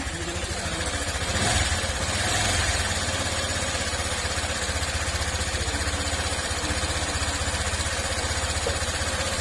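An engine idles steadily after repair, a close, even mid-pitched running sound with no talk.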